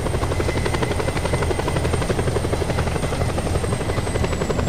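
A helicopter's rotor chops steadily and loudly throughout in the video game Just Cause 2, with a constant droning engine whine and no pauses.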